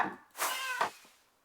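A cat in the Minecraft video game lets out a single close, clear meow with a rising and falling pitch, heard alone with no talk over it.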